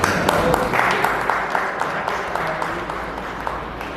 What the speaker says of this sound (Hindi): एक बार मुझे ये जोरदार तालियां हो जाए।